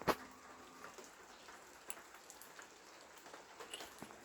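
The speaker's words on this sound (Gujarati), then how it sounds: "ના તો વરસાદ ચાલુ થઈ ગયો" Light rain begins to fall, with scattered, faint drops ticking irregularly on a surface under a soft, steady hiss. The setting is quiet.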